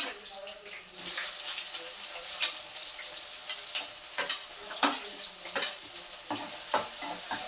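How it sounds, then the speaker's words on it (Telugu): Onion pieces fry in hot oil in a pan, a steady sizzle broken by frequent stirring scrapes and clinks, fairly close but soft. "ఇప్పుడు ఆయిల్ ఎర్రగడ్డ ముక్కలండి"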